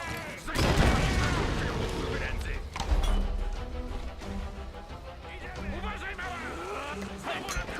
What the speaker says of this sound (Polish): Komuś się tu wybuchło.